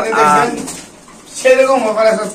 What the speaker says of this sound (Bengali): মানে এতগুলা কবুতর, এমনকি প্রতিটা মানে খাঁচায় ঘরে ভর্তি, মানে 5 জোড়া 6 জোড়া করে কবুতর।